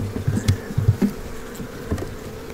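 Honeybees buzzing close by at a hive in low droning bursts, with soft thumps and handling noises around them.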